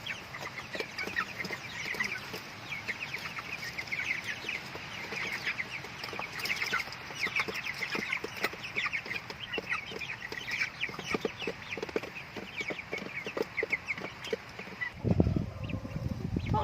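Chickens cluck steadily at close range while being fed on a Thai farm where vegetables are also grown, their clucking continuous with a brief louder rustle near the end.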